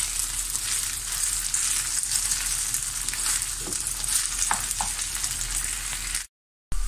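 Stuffed grape leaf filling frying and being stirred in a pan, a steady close sizzle with faint scraping of the stirring, then a brief cut of silence near the end.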